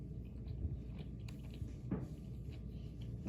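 A bite of leftover egg omelet being chewed close up, with soft, quiet mouth sounds and a few faint crunchy bites spread over a few seconds.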